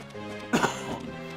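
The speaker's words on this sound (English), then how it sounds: "Sorry for the cough." A single short, throaty cough bursts out once, close to the microphone, over a steady, soft musical background.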